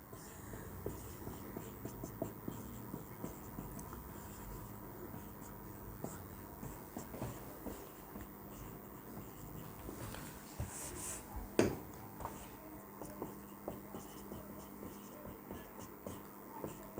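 Marker or pen scratching across a board while solving a projectile relative-motion problem, with continuous faint strokes and small taps, steady under a low room hum.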